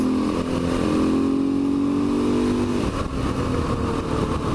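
A motorcycle engine hums steadily while riding, a close mid-pitched drone with a rising tone early on that settles into a constant rumble, with no talk.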